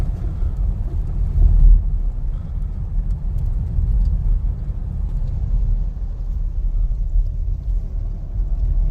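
A 2025 Ford rolls through ice and snow on a Clarksville, Tennessee road, giving a steady low rumble of engine and tires from inside the cabin, continuous and even with no voices.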